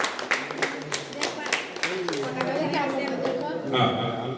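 Guests clapping at an engagement ceremony, scattered hand claps in an irregular burst mixed with crowd chatter and voices, fading into murmured talk.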